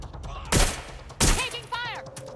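Gunfire in the video game Watch Dogs: Legion: two sharp, loud shots about half a second apart, followed by a brief voice line.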